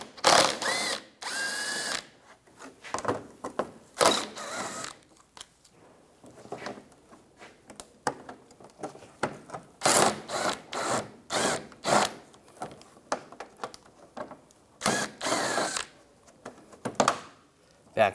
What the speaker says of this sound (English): Use a 10mm socket. There's bolts on the front. Take those out.